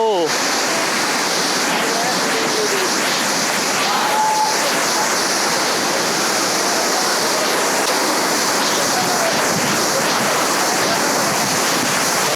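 Suptadhara and Sohosrodhara waterfalls in full flow, a loud, steady broadband roar of crashing water that fills the scene without pause, with a faint voice briefly heard near the start.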